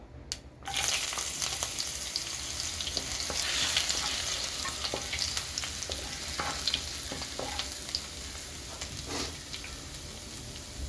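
Mustard seeds and minced ginger fry in hot coconut oil for chicken thoran. A sudden loud sizzle starts after half a second, then continues close and steady, sprinkled with sharp pops and crackles and no voices.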